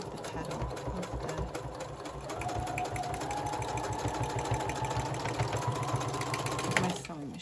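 A sewing machine stitches ruffles in a steady, fast rapid-fire chatter heard close up, running continuously and stopping near the end.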